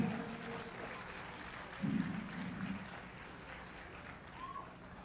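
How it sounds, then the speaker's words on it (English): Faint applause from an audience at a stage show, a soft continuous patter that swells briefly near the middle and then settles back to a low, distant wash. "Give them a round of applause, everybody."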